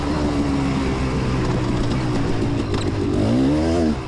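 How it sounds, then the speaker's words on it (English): KTM 300 two-stroke dirt bike at a hill climb hare scramble, its engine revving loud and close, the pitch climbing and dipping through a few quick blips near the end. "I got this KTM 300 two-stroke dialed in now"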